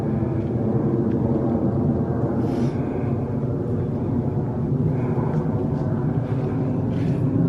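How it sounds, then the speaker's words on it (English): A plane passing overhead outdoors, a continuous low rumbling drone that stays steady and fairly loud across the whole stretch, with no talk. "You have to forgive the train, not the train, the plane."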